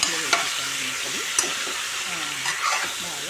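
Raw banana pieces stirred and frying in an oil tempering in a pan, a steady close sizzle with scraping spoon strokes and a few sharp clinks, with a faint voice underneath.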